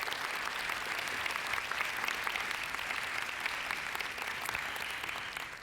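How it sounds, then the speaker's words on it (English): A church audience gives a sustained round of applause, a steady wash of many hands clapping that fades slightly at the end. "Let's give a round of applause to everybody that was brave enough."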